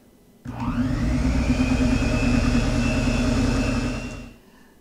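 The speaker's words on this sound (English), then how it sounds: "add the coconut and again blend it with the mixer" An electric mixer whirs steadily for about four seconds, loud and close, while blending coconut flakes into a healthy chocolate mixture, starting abruptly and winding down at the end.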